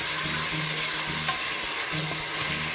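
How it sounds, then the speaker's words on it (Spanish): Onions frying in a pan for a Peruvian cau cau tripe stew base, a steady close sizzle with faint stirring scrapes throughout and no talking. "También echamos las cebollas. Mezclaremos."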